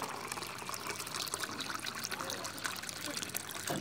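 Water is poured into a homemade fertilizer mix for Adenium plants, giving a steady trickling, splashing pour that runs throughout at moderate level with faint background noise.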